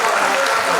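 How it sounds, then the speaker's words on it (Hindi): An audience at a medical college event applauds steadily, a dense continuous patter of clapping lasting under a second. "तालियों के साथ"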